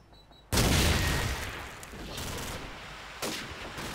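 Gunfire in the Call of Duty Frontlines video game, a sudden loud burst of rapid shots that trails off into a rumbling wash, then a second blast a few seconds later.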